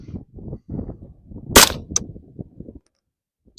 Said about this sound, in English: 5 rounds of the 40 grain VMAX through the LC Charger.